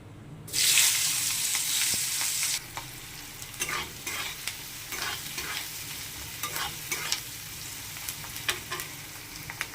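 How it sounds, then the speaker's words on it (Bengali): Chopped onion hits hot oil with cumin seeds and bay leaves, bursting into a loud hiss that lasts a couple of seconds, then settles into a softer sizzle punctuated by repeated stirring scrapes. "এবার দিয়ে দেবো পেঁয়াজ কুচি"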